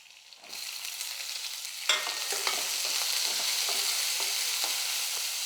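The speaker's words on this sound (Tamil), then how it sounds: "வெங்காயம் வந்து ஓரளவுக்கு நல்லா வதங்கணும்" Sliced onions added to hot oil and stirred while frying for tomato rice, a sizzle that rises suddenly, then holds steady and close with light scraping and tapping strokes, no voices.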